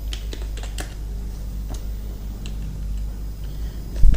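Fingers tap out a short title on a computer keyboard in a quick, uneven run of close, crisp key clicks, with a thump near the end.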